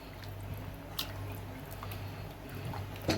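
Rice and dal khichdi is stirred with water in a pot, giving soft wet squishes and small liquid drips at close range under a faint low hum.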